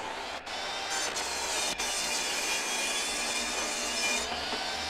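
Miter saw cutting glued-up wood pieces to length, a loud continuous buzzing cut of blade through wood lasting several seconds, close and alone.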